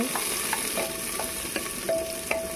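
Raw onions frying in a pan are stirred at home, with a steady sizzle under regular scraping strokes of the spoon, close and fairly loud.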